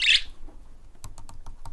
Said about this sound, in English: Meet Mango, the budgerigar parrot who refuses to accept that he's actually a bird.